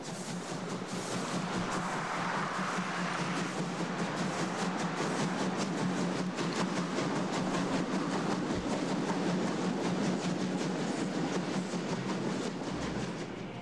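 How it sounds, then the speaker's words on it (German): An interzonal train bound for Munich pulls out along the Berlin Stadtbahn, with a steady rumble of rolling carriages and rhythmic clickety-clack of wheels on rail joints continuing throughout, moderately distant, with no speech. "Ausfahrt für den Interzonenzug nach München."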